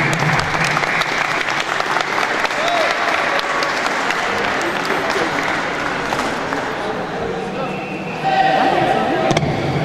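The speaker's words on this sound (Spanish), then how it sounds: "Un aplauso para las deportistas." Crowd applause rings out at an awards ceremony for women athletes at a national table tennis championship in Paipa, loud and sustained, with scattered voices in the hall and a brief swell of cheering near the end.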